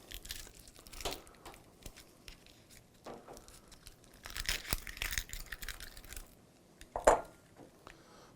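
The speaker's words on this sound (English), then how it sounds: "So I'm just peeling both of them right now." Dry onion skins being peeled from two onions by hand in a kitchen, giving soft intermittent crinkles and papery tearing rustles at close range, with a sharper crackle near the end.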